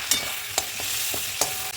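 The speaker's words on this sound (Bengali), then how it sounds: "প্রথমে দেবো শুকনো লঙ্কা আর তেজপাতা।" Dried red chilies and bay leaves dropped into hot oil left from frying prawns, a close, steady crackling sizzle with a few sharp clicks of a spoon stirring.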